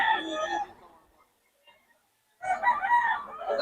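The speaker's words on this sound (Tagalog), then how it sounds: "Ang daming manok ni Boss Ga." Roosters crow loudly and close among many chickens at a poultry seller's yard, two bursts of crowing separated by a near-silent pause.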